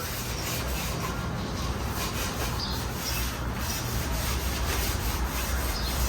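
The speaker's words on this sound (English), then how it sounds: "I'm gonna take a little rubbing alcohol, just clean this rim up" A rag soaked in rubbing alcohol rubs across a Volkswagen Beetle wheel rim, making a steady, close scrubbing hiss with no pause, alone without talk.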